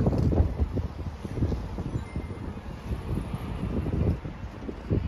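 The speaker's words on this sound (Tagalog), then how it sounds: "Lakas ng hangin." Strong wind buffets the microphone with a steady low rumbling roar and gusty surges throughout, loud and close.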